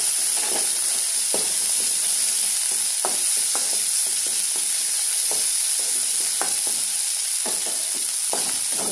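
Green chillies drop into fish frying in hot oil, producing a loud, constant sizzle with repeated scraping stir strokes breaking through at an uneven rhythm.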